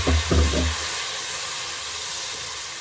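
Onions and tomatoes fry in a pan for home-cooked mutton biryani, giving a steady close hiss and sizzle throughout, with a few louder bumps of stirring or added ingredients near the start.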